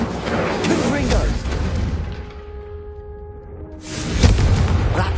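Fire spell blasts from a Hogwarts wizarding video game, heavy booming explosions that open and close the moment, with a quieter ringing lull between them and game voices talking over the action.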